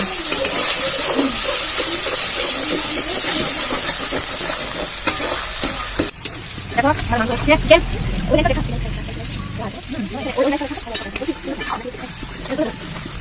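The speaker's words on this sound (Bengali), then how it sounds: "আমাদের চিকেন কষা হচ্ছে।" Chicken and onions sizzle and fry loudly in a pan over a high flame, a steady hiss with stirring scrapes and clatter running throughout, while voices talk over the cooking.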